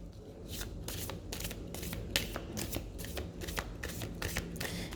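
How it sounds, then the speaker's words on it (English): Tarot cards shuffled continuously for a reading, producing a steady run of crisp riffling flutters and soft card slaps close to the listener, with no talking. "first I'm going to clear the cards, of course, from the previous reading we did"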